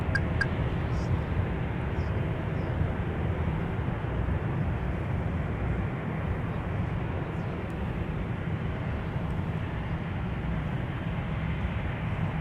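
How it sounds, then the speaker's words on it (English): An Airbus A300 at MSP airport, heavy continuous jet engine roar that stays loud and steady throughout, rumbling broadly with no break. "here is 5556 Heavy from Chicago Rockford with the Airbus A300."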